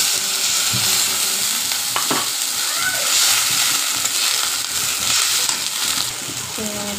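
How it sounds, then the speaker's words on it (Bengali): Onions fry in a pan until brown, with a continuous loud sizzle and occasional scraping stir strokes; the crackling stays close and constant across the whole stretch. "পেঁয়াজ ভাজা হয়ে যাচ্ছে, বাদামি কালার করে নেব।"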